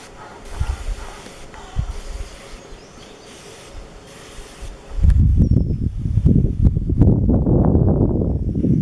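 A pump sprayer hisses steadily on tomato plants, including Cherokee tomatoes, then a louder, closer rustling spray takes over halfway through, mixed with soft brushing of leaves.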